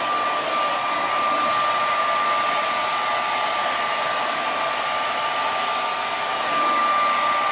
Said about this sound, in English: This is why we use a heat gun.